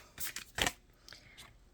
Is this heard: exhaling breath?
no